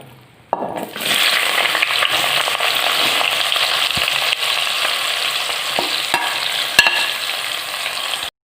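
Onion slices hit hot coconut oil in a pan for Kerala-style pepper chicken, bursting into a loud, steady sizzle after a short quiet start, with a few clicks of stirring.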